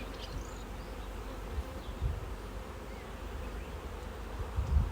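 Honey bees hum steadily at queen rearing cups in a starter-finisher setup for raising queens, a dense, continuous low buzz with a few brief closer passes, no voices.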